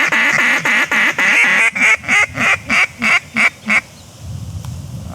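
Ducks quack loudly and close in a rapid series of about a dozen calls that slow and stop, with no talk over them, at a waterfowl hunting blind during a fall hunt.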